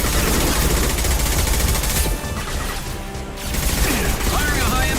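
Gunfire from the Mass Effect 2 video game, a loud, dense burst of shots with rumbling booms that fills the clip, easing briefly in the middle before resuming at full strength.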